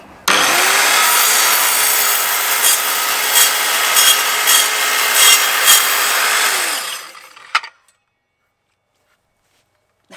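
An Evolution R185CCSL circular saw screams through wood for several seconds at a steady pitch, with gritty rasping bursts as it hits embedded nails and wires, then winds down to silence.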